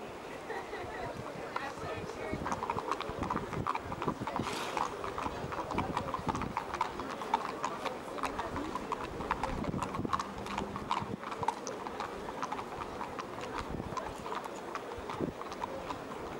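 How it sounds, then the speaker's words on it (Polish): Racehorses gallop in a Polish horse race, their hooves drumming in a fast, steady clip-clop that carries on throughout, mixed with an announcer's voice and crowd noise. "koń drugi numer 4 Magna S, koń trzeci numer 3 Valinur"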